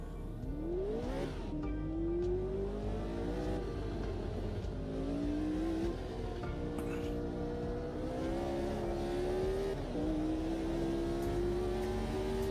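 Race car engine in a sim racing game revving steadily through rising gear sweeps over about twelve seconds, loud and continuous with brief dips between shifts.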